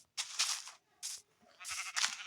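Blocky sheep in Minecraft bleat in three or four short, nasal cries with brief gaps between them, close and clear, with no talking over them.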